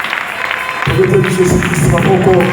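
Congregation at a wedding church service breaking into applause and vocal acclaim, clapping and raised crowd voices swelling suddenly after a quieter opening and staying loud to the end.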